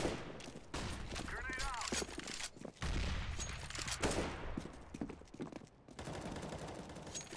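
Bursts of rapid gunfire from the video game Counter-Strike: Global Offensive, with sharp automatic volleys and single shots scattered through the stretch, loud and close, while players talk over the action.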